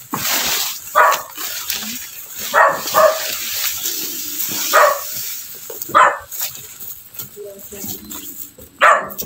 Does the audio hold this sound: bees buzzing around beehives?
no